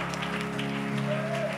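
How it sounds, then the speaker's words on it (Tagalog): Church congregation clapping hands together in steady, continuous applause, with music and a voice faintly underneath. "Come on, everybody, clap your hands!"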